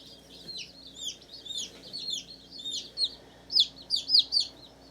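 Baby chicks in a brooder under a heater peep repeatedly in quick, high, overlapping calls that grow louder and more frequent toward the end, with a low hum beneath.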